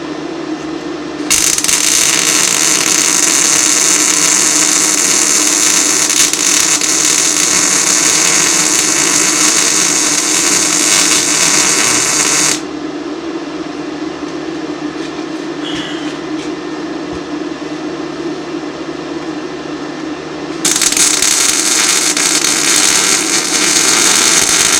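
A two-stroke engine fitted with a Polaris exhaust revs hard in two long, loud, high-pitched blasts, dropping to a lower idle between them, heard close up with no voices.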